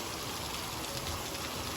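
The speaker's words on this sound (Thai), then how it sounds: "ฝนตกขนาดนี้" Heavy morning rain pours down steadily at a construction site, a dense, continuous hiss of downpour that stays loud and unbroken throughout, with no voices.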